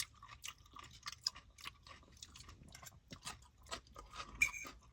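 A crunchy BLT sandwich of tomato, mayonnaise and pepper on bread is chewed near the mic with a steady rhythm of crisp bites and crunches, and no talking.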